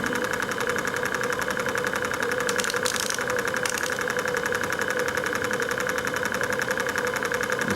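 A model engine runs with force applied to its crank, a steady close mechanical chugging with a rapid repetitive knock and a constant whine, loud throughout and uninterrupted.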